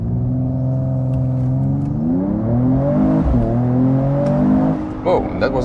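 A 2021 Mercedes E53 AMG six-cylinder convertible accelerates hard from a standstill, its engine note climbing in pitch, briefly dropping at a gear change, then rising again loudly and close.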